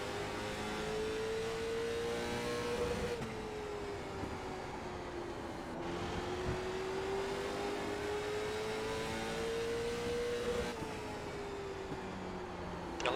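Late model race car engine in the iRacing sim, a steady loud drone holding near-constant pitch that sags and climbs gently through corners, continuous with no talk over it.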